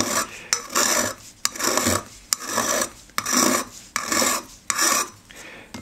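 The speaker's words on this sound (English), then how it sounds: "So I'm taking a flat file, just an ordinary flat file here, and rubbing it so that it goes around the" An ordinary flat file rasps around the sharp, shear-cut edge of a hand-raised copper beaker in about seven steady, evenly spaced strokes, close and loud with no talk.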